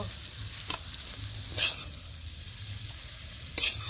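Eggplant and taki fish fry in oil that has begun to separate: a steady, soft sizzle with a few brief, brighter crackles and spatters, close and alone with no talking.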